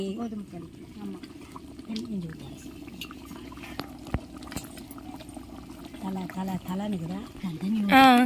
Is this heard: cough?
no